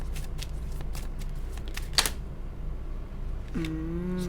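Tarot cards are shuffled close by in a quiet room, a series of crisp riffling flicks and soft card slaps, with one sharper snap near the middle and a faint tonal sound near the end.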